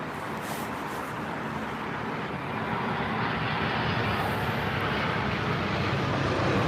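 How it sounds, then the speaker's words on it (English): Steady broadband roar of an American Airlines Boeing 787-9 from Dallas Fort Worth at London Heathrow, continuous and building slightly louder toward the end, with no voices. "we've got the 787-9 from Dallas Fort Worth"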